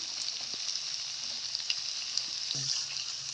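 Sliced onion and fried potatoes sauté in hot oil in a pan, a steady close sizzle with occasional light scrapes and taps of a spoon stirring.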